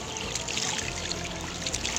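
Clean spring water flows along the Pikatan river in a continuous, close trickle and gurgle, alone and fairly soft.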